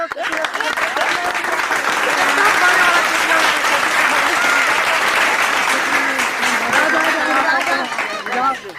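An audience applauds at a Chhattisgarhi comedy cricket skit: steady, dense clapping that lasts almost nine seconds, with chatter mixed in before it fades slightly at the end.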